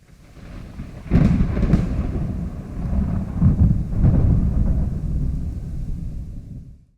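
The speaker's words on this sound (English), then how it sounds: "I want the sound of thunder to keep going a little bit longer" Deep thunder rumbles and rolls for several seconds, swelling with a couple of louder cracks before fading away.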